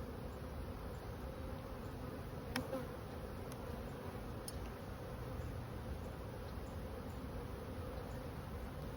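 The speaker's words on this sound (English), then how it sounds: "Yeah, there are a lot of bees out." A dense, steady buzz of many bees swarming close by around an opened hive, continuous and droning, with a few faint clicks.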